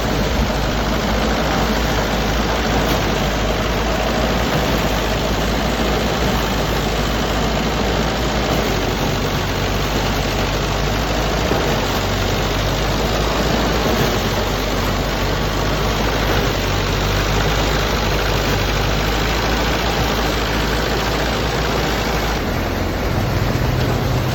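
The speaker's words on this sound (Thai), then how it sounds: "วอร์มเครื่องได้ที่แล้วกะลงมือปั่นเลยครับบัดนนี้" A rice threshing machine's engine runs continuously at a loud, steady roar with a heavy low rumble, close by and unchanging for the whole stretch, with no talk.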